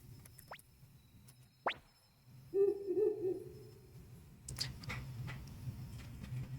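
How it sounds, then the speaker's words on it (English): An owl hoots in the Suikoden 1 Remaster video game, a low soft hooting call lasting about a second amid sparse clicks and faint background sounds. "Is that owl sound?"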